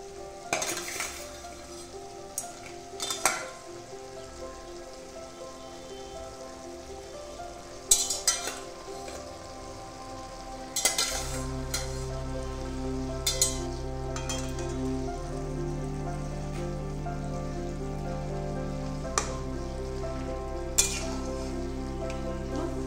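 Cabbage fries and sizzles in a pan for a fish-head curry, a steady soft hiss broken by scattered clinks and scrapes of a utensil stirring, with the frying swelling louder partway through.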